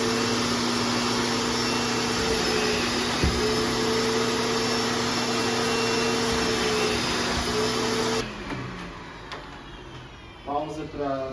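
An upholstery extraction cleaning machine runs with a steady loud motor whine on a white sofa, then cuts out near the end, leaving quieter clicks and handling noises.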